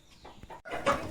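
Backyard village hens give a few short, soft clucks up close, faint and brief against a quiet background.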